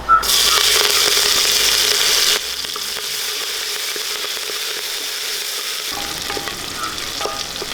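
Mustard seeds, a pinch of fenugreek, green chillies and garlic frying in hot oil in a pan for Tamil Nadu-style rasam rice, a loud, bright sizzle that drops to a softer crackle with faint popping and stirring.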